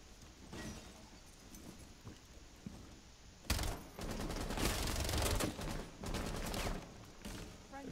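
Dense bursts of gunfire from Rainbow Six Siege, a quiet stretch of scattered shots giving way to loud, sustained rapid fire that crackles on through the second half.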